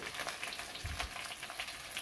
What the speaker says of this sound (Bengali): এখন এখানে আমি মেথি দিয়ে দিব, পাঁচফোড়ন দিয়ে দিব।